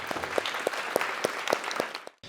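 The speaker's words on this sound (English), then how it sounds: "let's give our panel a round of applause, please" A conference audience applauds its panel: a brisk burst of clapping with a few sharp, close claps standing out, carrying on steadily for about two seconds before cutting off abruptly.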